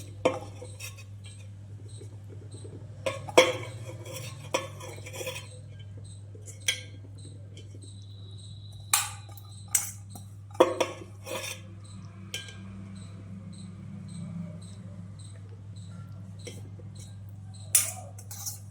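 Leftover rice spooned into a chicken biryani pot with a metal spoon: scattered scrapes and sharp clinks against the pot at irregular intervals, moderately close, over a steady low hum with no talking.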